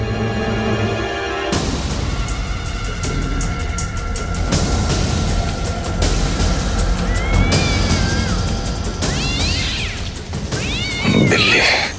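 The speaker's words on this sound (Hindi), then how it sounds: "बिल्ली।" A cat meows repeatedly, close and loud, with some drawn-out, wavering caterwaul-like cries toward the end over steady background noise.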